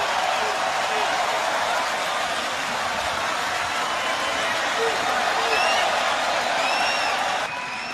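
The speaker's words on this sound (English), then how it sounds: "Listen to the crowd reaction" Boxing arena crowd at the Pacquiao vs Larios prize fight roaring in a dense, steady wash of noise for the whole stretch, loud and sustained, with a faint whistle or two rising above it.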